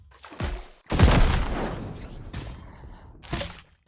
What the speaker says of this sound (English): hitting it against the wall and then shooting 1 to 2 rockets, and it goes really far